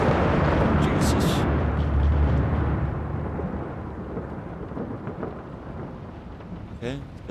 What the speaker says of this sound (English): Okay, just the thunder.